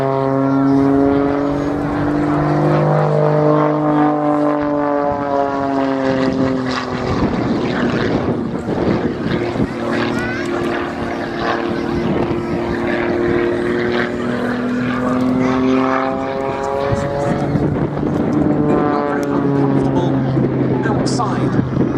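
Propeller-driven aerobatic plane rated for +6 to -6 G and over 200 mph, flying a display at an airshow, its engine droning loud and steady with rising and falling pitch sweeps as it manoeuvres; people talk over it.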